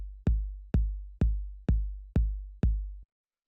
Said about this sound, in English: the first sound we have here is this kick